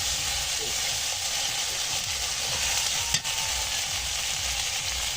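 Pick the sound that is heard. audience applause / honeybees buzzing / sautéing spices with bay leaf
sautéing spices with bay leaf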